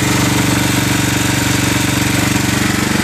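Generac 7000EXL tri-fuel portable generator engine running steadily at high RPM, a loud, even, continuous mechanical drone with a rapid pulsing throb and no pauses.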